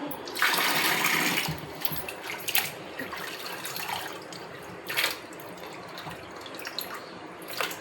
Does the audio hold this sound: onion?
no